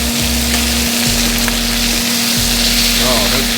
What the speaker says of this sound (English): When you see this sear that's happening, guys, this is what you want. You want that sear, that crust.